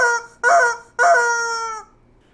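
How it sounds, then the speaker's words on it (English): A rubber chicken toy lets out two loud, close squawking squeaks, the second drawn out longer before it fades to quiet. "I got a rubber chicken."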